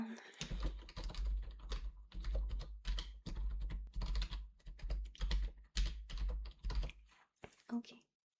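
Fingers type on a computer keyboard to take notes in a quiet room, a soft, quick patter of keystrokes in uneven bursts with short pauses, close and gentle.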